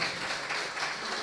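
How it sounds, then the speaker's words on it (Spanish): Audience applause at a church missionary congress, a steady broadband wash of many hands clapping together to welcome someone speaker, moderately loud and sustained without pause. "Vamos a recibirla con un fuerte aplauso de bienvenida"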